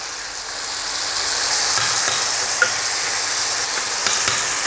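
Tomatoes and curry leaves fry in hot oil in a pan for Karaikudi-style tomato chutney, giving a steady, loud, close sizzle with a few small pops and crackles throughout.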